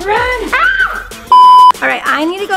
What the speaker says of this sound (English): Oh, with the alarms again.